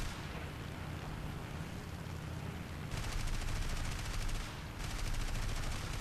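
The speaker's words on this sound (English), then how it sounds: "I just keep on firing." Aircraft machine gun from a Heinkel He 112B-0 in the War Thunder flight game fires as dense, continuous bursts of rapid shots, loud and sustained, with a brief gap before firing resumes.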